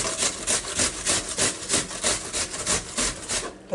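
Onions being grated by hand for salmon patties, a close rhythmic rasping of about a dozen even strokes, each a scratchy swish against the grater, steady and alone without talk.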